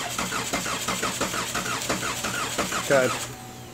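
The 2.5L engine of a 2013 Chevrolet Malibu cranks without catching, giving a rapid, rhythmic whirring churn that repeats steadily for over three seconds and then cuts off. It is close and loud, with no speech over it.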